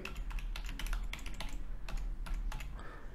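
Someone types a website name on a computer keyboard, producing a quick, close run of clicking keystrokes that continues without pause and with no speech.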